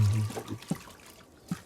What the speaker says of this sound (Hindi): अरे ठंडे ठंडे पानी से सुबह शुरू हो गया। नहा रहा